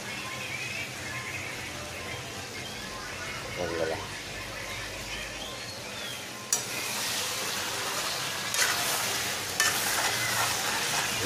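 Chicken curry cooking in a pan, Manipuri style, with a steady sizzle and frying hiss throughout, a few sharp stirring scrapes and clinks partway through, and the sizzle swelling louder in the second half.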